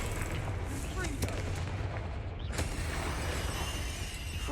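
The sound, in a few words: Confringo explosive fire spell cast in Hogwarts Legacy video game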